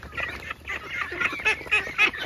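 Domestic ducks kept for eggs call repeatedly in a flock at feeding time, a run of loud nasal honking quacks close by with no talk.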